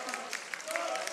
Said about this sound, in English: Applause all round on the Germany bench.